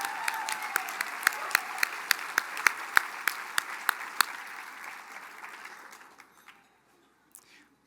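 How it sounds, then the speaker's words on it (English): Audience applause at the Mille Lacs Band of Ojibwe State of the Band program, following a sung anthem rendition; dense, steady clapping with a few sharp nearby claps, fading out over several seconds into near silence. "Let's give another round of applause for that awesome rendition."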